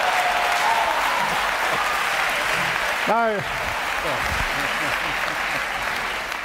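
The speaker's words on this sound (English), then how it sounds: "it's very kind of you to clap" Audience clapping at a panel discussion on God and science, a full burst of applause that runs from the start and continues under a voice as he begins speaking.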